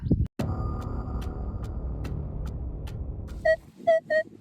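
A Minelab Equinox 900 metal detector sweeps a field, holding a steady electronic hum for about three seconds. It then gives three short, clear beeping signal tones in quick succession, with no speech.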